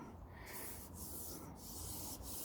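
Sandpaper scrubs back and forth across the bodywork of a Vauxhall Carlton under repair, steady rhythmic rubbing strokes roughly every half second, close and fairly quiet with no talking.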